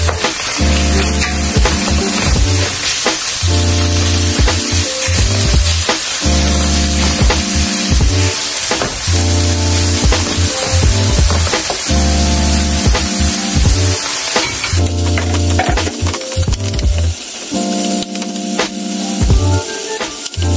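Ground pork sizzles and crackles loudly in a hot frying pan, a dense continuous hiss with shifting bursts as it is stirred, and no talking.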